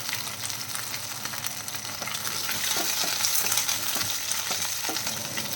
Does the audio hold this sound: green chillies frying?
yes